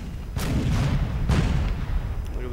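Cannon artillery fires in the strategy game Empire: Total War during an American Civil War battle, with two heavy booms about a second apart rumbling over low battlefield noise.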